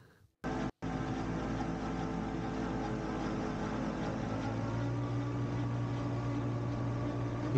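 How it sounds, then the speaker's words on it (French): Steady droning engine of a gyroscope-stabilised flying vehicle, with a lawnmower-like buzz and layered harmonic hum, running continuously and loud after a brief cut at the start. "On dirait que c'est un moteur de tondeuse"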